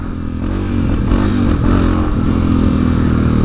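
A BMW GS650 motorcycle engine runs steadily while being ridden, with a loud, continuous throaty hum and slight rising revs from start to finish and no talking.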